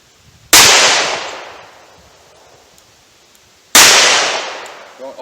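A 4-inch Smith & Wesson 686 revolver fires .38 Special rounds outdoors at a 70-yard range, two loud sharp cracks about three seconds apart, each trailing into a long fading echo.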